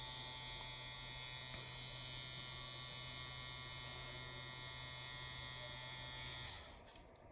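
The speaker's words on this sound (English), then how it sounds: "if you can use a rotary machine like this one, it's a lot easier for them because they don't have that loud machine in their ear" A rotary tattoo machine buzzes in a steady, even electric hum close by, running continuously before cutting off near the end.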